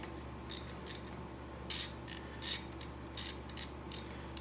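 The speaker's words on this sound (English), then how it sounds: "13mm socket. 3/8 ratchet. Get them nice and tight." A 3/8 ratchet with a 13mm socket tightens lug nuts during a hub assembly job on a 2001-2005 Ford Explorer, giving short bursts of ratcheting clicks in an irregular rhythm over a steady low hum.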